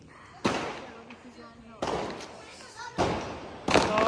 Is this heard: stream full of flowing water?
no